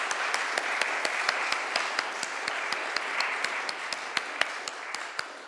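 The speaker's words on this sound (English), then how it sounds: "Another round of applause for Bright Lights," A chapel congregation at a festive all-ages service claps warmly, moderately loud with individual sharp claps standing out from the steady patter.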